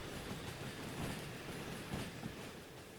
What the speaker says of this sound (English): Just chugging along, a dude and his train.